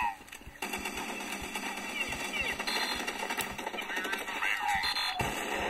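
Bursts of automatic gunfire from the video game Counter-Strike: Condition Zero ring out across a busy in-game soundscape, with sharp rapid shots and clatter filling most of the stretch alongside voices talking.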